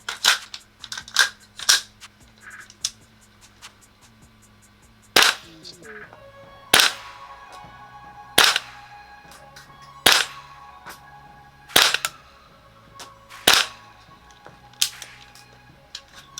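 A Tokyo Marui MWS gas blowback airsoft rifle fires BBs on green gas, about ten sharp single shots with clacking bolt action, spaced roughly one to two seconds apart, close and loud.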